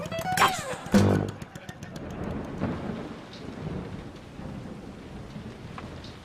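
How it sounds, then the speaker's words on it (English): Rain falls steadily outdoors with a soft, continuous hiss, joined by a loud low rumble and thump near the start that may be thunder, then settling into an even patter. "It's raining."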